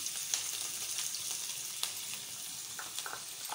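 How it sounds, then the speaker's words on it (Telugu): Chopped onions and green chillies fry in oil with mustard seeds and cumin for aloo bonda filling, giving a steady, close, bright sizzle with faint stirring scrapes and occasional small pops throughout. "వేసుకుని బాగా ఫ్రై చేసుకోవాలి."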